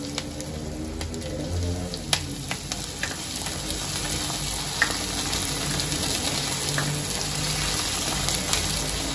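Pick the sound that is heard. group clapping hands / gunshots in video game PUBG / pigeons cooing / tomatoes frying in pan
tomatoes frying in pan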